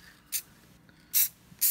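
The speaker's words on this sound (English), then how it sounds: "I'm basically going to spray the top, spray around here, kind of both sides a little bit" Satin low-sheen top coat sprayed from an aerosol can onto painted miniature infantry figures: three short, sharp hissing bursts separated by brief pauses, close and fairly loud.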